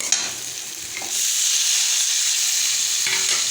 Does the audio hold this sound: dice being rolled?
no